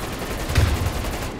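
Gunfire in the Die Maschine zombies mode of Call of Duty, a dense, continuous burst of rapid shots with a heavy low thump near the middle, loud and close.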